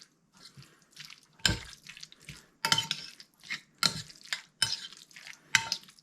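Mushroom soup being stirred into ground beef in a casserole dish, a run of soft wet squelches and spoon scrapes with a few sharper knocks against the dish, close and irregular, with no talking.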